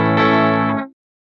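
A distorted electric guitar sounds through its humbucker pickup: a single strummed chord, thick and harmonically dense, rings loud and alone for under a second, then is cut off abruptly into silence.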